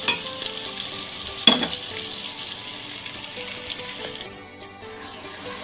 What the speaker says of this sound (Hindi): अब हम ज़ीरा इस पॉइंट पे आकर ऐड करेंगे। थोड़ा सा इसको हम फ्राई करेंगे।